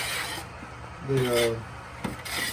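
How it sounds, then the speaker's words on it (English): A scraper pushed through honeycomb cappings in an uncapping tank during a honey harvest, giving a close, steady rubbing scrape with a brief voice-like tone and a small knock partway through. "We use just, I guess, this scraper right here."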